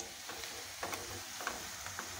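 Ginger-garlic paste masala frying in a pan for gongura chicken, a steady soft sizzle with faint stirring clicks throughout, quiet and close, no voices.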